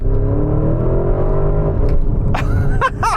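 A Porsche Cayenne Turbo GT SUV on the move, its engine a loud, close, steady drone that climbs gently in pitch, with a few sharp squeaks and chirps near the end.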